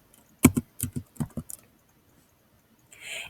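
Someone types on a computer keyboard in a short burst of separate keystrokes, close and clear, followed by a brief quiet pause and a soft hiss at the end.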